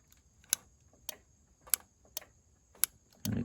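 Sharp relay clicks from a Yamaha golf cart brake light circuit, six crisp ticks spaced roughly half a second apart as the brake pedal is pressed and released, close and distinct over a quiet background, ending in a brief low thump.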